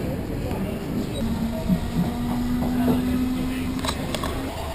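Steady low rumble of a moving train carriage with a sustained hum, occasional clicks and faint background voices.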